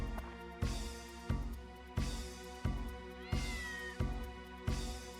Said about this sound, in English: We got an actual meow.